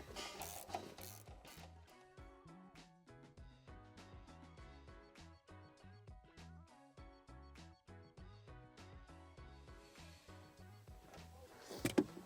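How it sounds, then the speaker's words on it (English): A hand ratchet with a 15mm socket tightens a ground bolt on a 2011–2017 Mustang GT during a fuel system install, a fast steady series of close clicking strokes with a brief clunk at the end. "we're going to attach it to this bolt right here. It's a 15mm socket."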